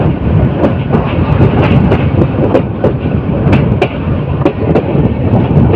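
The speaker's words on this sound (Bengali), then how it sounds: "এই যে ট্রেনটি এখন ঘোরাশাল রেল স্টেশন ক্রস করে যাচ্ছে" The Titas Commuter train rolls slowly through Ghorashal railway station with a steady, loud rumble and repeated clickety-clack wheel beats and sharp clanks over the rail joints, heard up close with no voices.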